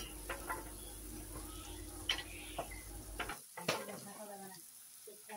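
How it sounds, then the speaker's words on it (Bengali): Chopped onion and garlic fry quietly in a clay pot on a gas stove, a faint hiss with light ticking taps of a spoon that stops partway through, leaving a few sparse clicks. "দিয়ে 2 মিনিট মতো পেঁয়াজ আর রসুন কুচিটাকে একটু ভেজে নেব"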